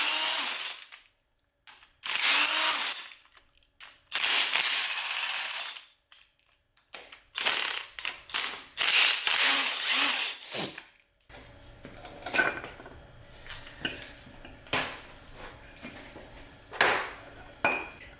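Metallic ratcheting and clinks of a socket wrench backing out 15 mm bolts on a 4L80E transmission extension housing, in short bursts with pauses, close up and alone.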